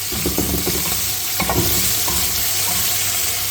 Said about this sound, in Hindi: हम 5 मिनट के लिए जो है ना गोश्त को भूनेंगे